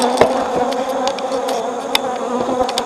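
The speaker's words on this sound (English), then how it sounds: "they're buzzing me and they're mean little turds" Honeybees swarm close around an open hive during a winter inspection, a loud continuous buzz with individual insects zipping past in sharp flybys.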